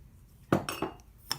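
A measuring cup and utensils clink as baking powder, baking soda and sugar are added to semolina for basbousa: a few sharp metallic and glassy taps, close and quiet.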